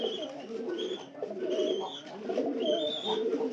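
Pigeon chicks make soft, repeated cooing and whistling calls while being fed, close and continuous in rising and falling bursts, with no speech.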